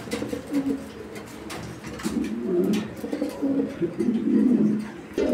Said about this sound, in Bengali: কবুতরগুলো দেখেন।